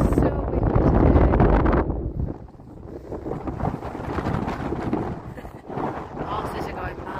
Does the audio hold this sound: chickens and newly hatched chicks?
no